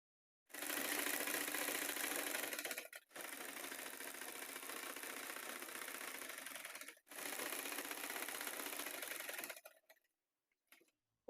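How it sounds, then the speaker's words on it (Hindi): A sewing machine stitches a waistband belt onto a palazzo, running in three steady whirring bursts separated by brief pauses, fairly quiet and close, then stopping. "अब हम सिलाई लगा के बेल्ट अटैच करेंगे।"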